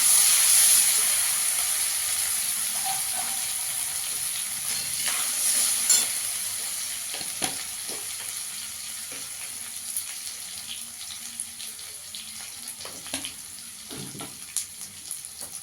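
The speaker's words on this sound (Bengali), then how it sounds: "আমি এখানে একটু মৌরি ফোড়ন দিয়ে দেবো। এক চামচ আদা গ্রেট করে রেখেছি," Fennel seeds and grated ginger sizzle in hot oil with a steady, close hiss and scattered sharp crackles and pops, with no voices.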